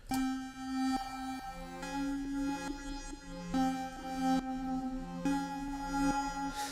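A bright synth arpeggio plays steady, repeating note patterns with a bouncy rhythm, heavily processed through a Looperator preset with stuttering, chopped effects, loud and alone.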